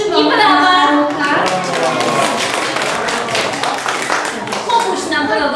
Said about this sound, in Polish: I brawa!